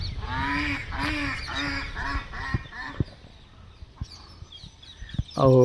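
Ducks quack in a rapid series of loud, nasal honks close by, then scattered softer calls and rustling before another loud burst at the end.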